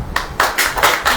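A church congregation clapping hands during a sermon, with several loud, evenly spaced claps in quick rhythm close by.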